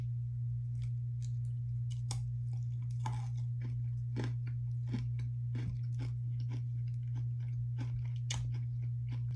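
Close crunching and chewing of a Butterfinger Salted Caramel candy bar, with irregular crisp bites and brittle cracks spread through the clip over a steady low electrical hum, with no talking.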